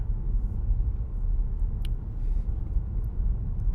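A car with regenerative braking rolls down a hill, giving a steady, low cabin rumble of road and engine noise that holds evenly throughout, with no one talking.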